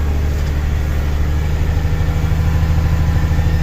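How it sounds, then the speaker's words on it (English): Tractor engine used for logging runs at a steady low rumbling idle, close and continuous throughout with no talking. "Dad likes logging with that tractor."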